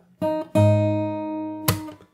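On fingerstyle guitar in a song, two plucked notes ring out, then a sharp percussive slap hits the strings near the end. The sound is close and solo.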